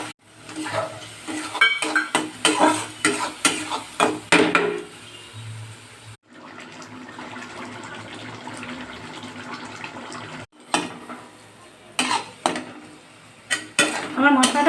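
Cumin powder, Maggi masala and salt fry in a pan, stirred with clattering utensil scrapes and knocks, then a steady sizzling hiss that drops out briefly before more stirring clinks close by.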